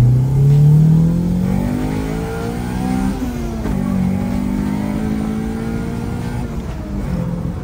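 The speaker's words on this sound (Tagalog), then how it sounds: "Ngayon, papakinggan natin kung ano ang tunog ng VTEC sa chambered muffler." A 1999 Honda Civic SiR revs up into VTEC through a chambered muffler, a loud mid-pitched engine note that climbs, falls and surges again in waves over several seconds, heard close with no talk.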